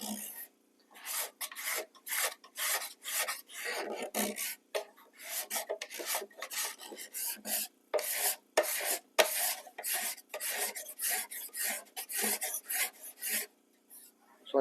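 A scraper rasps across a surface in quick repeated strokes, a steady rhythmic scraping with brief pauses, close and alone.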